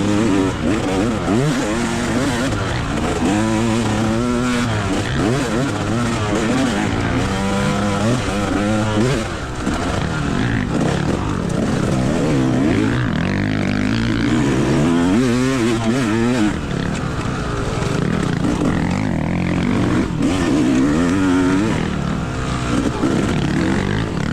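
A motorcycle engine drones loud and close during an enduro race over slick rocks, its pitch rising and falling in smooth waves as the rider rolls on and off the throttle.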